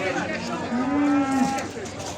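At a livestock market in Beylagan, a single calf lets out one clear, drawn-out moo close by, over a low murmur of market background noise.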